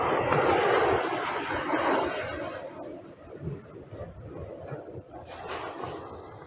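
Rough sea surging onto a coastal road at Karungali village near Pulicat during a storm surge, heard as a continuous broadband roar of water and wind, loudest at the start and then easing to a steady rushing wash.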